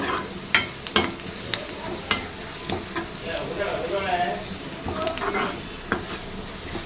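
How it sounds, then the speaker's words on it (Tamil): Onions sautéing in sesame oil for a Tamil fish curry, a soft continuous sizzle with intermittent scrapes and clicks of a spoon stirring against the pan. "நல்லா வதங்கி வர்றது தெரிஞ்சு பாருங்க"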